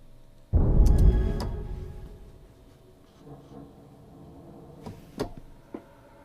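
A deep layered synth patch tone swells in and slowly fades, followed by a few faint clicks and brief bright hits in near silence.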